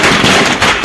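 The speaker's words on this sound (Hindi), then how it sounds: "पटाखों की आवाज से पूरा इलाका गूंज उठा" Firecrackers set off by a street crowd celebrating in Bageshwar, a dense, loud crackling burst of rapid pops filling the whole moment with no voices.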